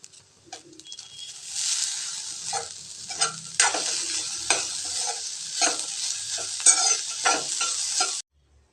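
Coriander leaves frying in hot oil for coconut rice give a bright, loud sizzle broken by the clatter of stirring, then stop abruptly at the end.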